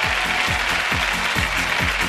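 The Laredo team cheers and applauds in a 1996 summer game-show contest, a steady crowd roar and clapping with a repeating mechanical ratcheting beat underneath.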